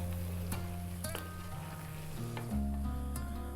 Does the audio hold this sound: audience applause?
no